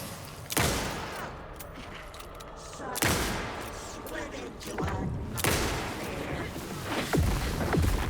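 Gunfire and heavy impacts from Alan Wake 2 play out in a loud, cluttered fight. Several sharp booming blasts land a few seconds apart over a constant rumble, with a voice mixed faintly into the chaos.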